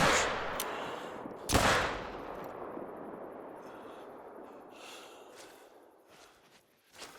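Rifle shots fired at game animals in theHunter: Call of the Wild, a few sharp cracks with the strongest at about a second and a half, each trailing into a long fading echo over quiet outdoor ambience.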